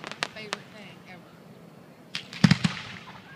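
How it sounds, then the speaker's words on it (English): Fireworks explode at a Boomtown Day celebration in Nitro, West Virginia. Several sharp bangs come in two bursts, a few at the start and a tight cluster near the end, with quiet crowd ambience between them. "I would go anywhere to watch fireworks."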